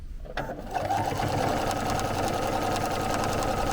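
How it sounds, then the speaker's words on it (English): A sewing machine stitches a chenille baby quilt in a continuous line, starting after a brief pause and then running as a steady, close, fast mechanical whir with no talking. "So we're quilting in a continuous line, and we're also adding this final strip of chenille to form our hexagon."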